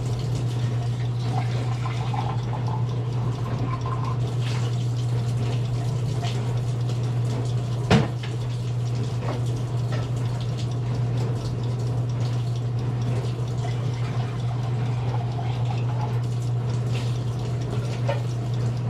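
Steady running water from a kitchen tap rinsing out containers while chili is being made, a continuous close hiss with a low hum underneath and one brief clunk partway through.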